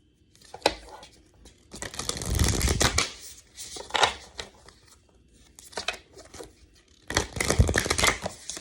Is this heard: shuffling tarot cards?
yes